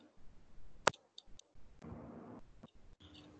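Keyboard typing during an online conference Q&A session, heard as a scatter of light, quick clicks and taps with one sharp louder click, near and fairly quiet, with no speech.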